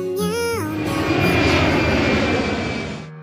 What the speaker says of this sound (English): The plane took off successfully.